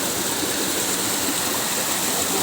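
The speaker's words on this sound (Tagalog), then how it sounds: "Nasa taas ang talon." Water from a forest waterfall rushes along a stream in a steady, dense broadband roar, close and loud, continuous without pause and with no voices.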